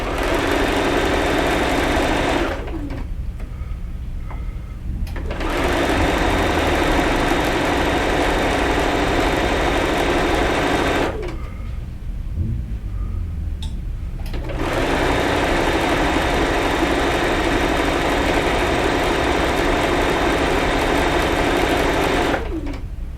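A sewing machine stitches a quilt seam at a quarter-inch allowance, running in three steady, loud bursts separated by short pauses, with no talking.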